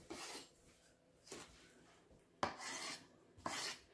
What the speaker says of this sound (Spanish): Este es el último nopal que estoy cortando y les voy a mostrar cómo es que yo lo corto en cuadros